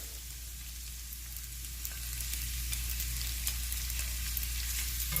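Asparagus and vegetable stock concentrate sizzle in a pan at a camping stove, a quiet steady frying hiss that grows slightly louder, with faint crackles and light stirring; no speech.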